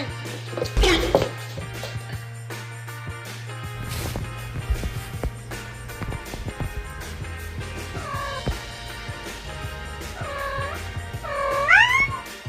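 A cat meows several times in the second half, short rising-falling calls growing louder toward the end, over a low steady hum and a few sharp knocks earlier.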